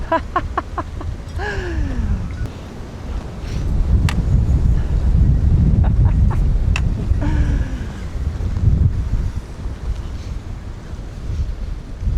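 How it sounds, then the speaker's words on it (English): Strong winter wind buffets the microphone at a greenhouse build site in a continuous roar that swells and eases, with a few faint bird calls and clicks underneath. "It's so windy."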